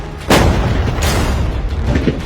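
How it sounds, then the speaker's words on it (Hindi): Gunshots fired at a container ring out loud and close: one sharp blast followed by a long booming tail, then a second fainter crack near the end. "पहले बाकी शॉट्स फायर कर लेते हैं"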